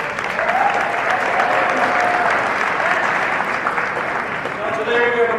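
Loud, sustained applause from an audience at a school-related event honouring staff members, steady throughout, with faint voices and murmuring mixed in beneath the clapping.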